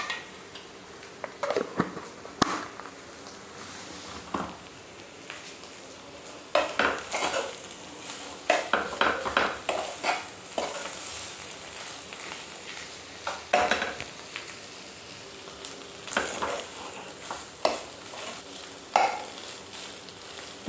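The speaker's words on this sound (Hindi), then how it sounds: "आलू हमारे फ्राई हो गए हैं" Potatoes fry in a pan with a soft sizzle while a spoon stirs and scrapes, giving irregular clinks and knocks against the metal, close and fairly quiet, with no talking.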